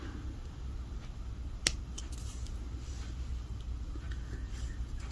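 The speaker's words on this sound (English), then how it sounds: "Cut off and leave about 1/4 of an inch of the pin." Cutters snip a jewelry head pin in one single sharp click, close and brief, over a quiet steady room hiss with no talking.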